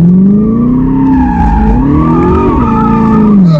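A Chevrolet Corvette drifts with loud, sustained tire squeal that wavers in pitch over a roaring engine, close and continuous for several seconds.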